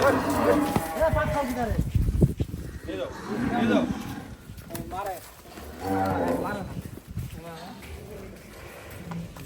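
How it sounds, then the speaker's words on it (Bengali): Jatshahi cattle at a cow market in Chattogram let out several deep moos in bursts, with people talking nearby and overlapping the lowing. "রাশেদ ভাই এটা হচ্ছে জাতশাহী হল এটা গরু জাতশাহী গরু"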